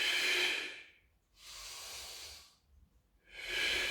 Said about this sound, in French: Et vous soufflez.